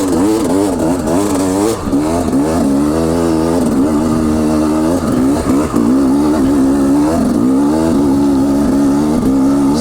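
A KTM 300 Enduro two-stroke dirt bike revs hard up a steep hill, its loud engine rising and falling in pitch continuously close by.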